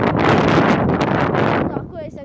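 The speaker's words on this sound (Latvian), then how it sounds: "vējš arī pūš ir tik stipri" Strong wind gusting hard against a microphone outdoors, a loud roaring rumble that holds for most of the moment and then drops away near the end, with no speech.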